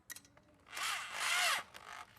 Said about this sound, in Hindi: अब इसे जो है ड्रिल मशीन से ही टाइट करेंगे।